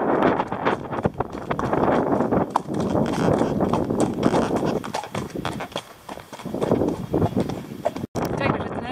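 Horse hooves clip-clop steadily at a walk while a rider leads with a rope tied to the saddle horn on a sunny ranch on Bonaire, with wind buffeting the microphone and talk over the top throughout.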